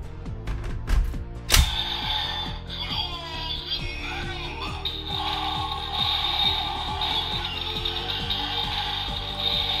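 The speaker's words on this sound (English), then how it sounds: "we are going to try the sound effect for the Henshin into Cross Magma" A DX Cross-Z Magma Knuckle toy from Kamen Rider Build plays its electronic Cross Magma transformation effect, starting with mechanical clicks, then a loud, continuous synthesized sequence of tones and effects playing on its own.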